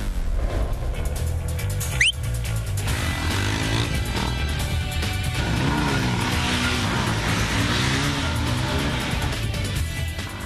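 A motorcycle revs and roars through stunts, including a back wheelie and a rolling burnout, with rising and falling engine pitch and a brief high squeal, heard fairly close under a steady background din.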